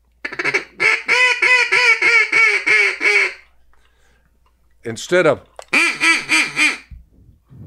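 A duck call blown to imitate a mallard hen's quack gives a loud series of rhythmic quacks, pauses, then repeats in a second burst, with brief speech in between.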